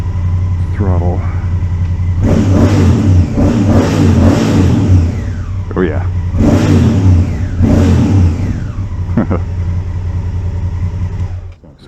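A 2019 Honda Africa Twin motorcycle engine is revved close up in several loud throttle bursts, rising and falling over a rumbling idle, with someone speaking briefly between the revs.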